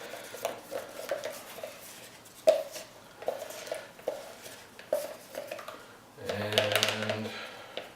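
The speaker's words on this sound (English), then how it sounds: "Mix this up good, scrape the sides and the bottom." Stirring two-part resin in a cup, a stick repeatedly scraping the sides and bottom in a series of close, light taps and scrapes, with a louder rubbing burst near the end.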